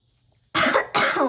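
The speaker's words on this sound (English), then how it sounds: "I don't know why I just coughed all of a sudden" Two sharp, close coughs in quick succession, loud and near, with no talking around them.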